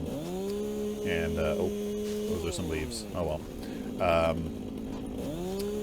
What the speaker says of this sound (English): Unfortunately, the chainsaw is not a weapon.